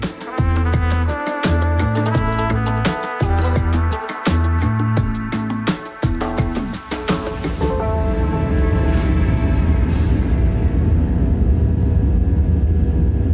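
Inside the cabin of a Pegasus Boeing 737 airliner during takeoff, a loud steady engine roar builds into broad rumbling thrust, with a repeating tonal chime-like pattern early on before the noise swells and evens out.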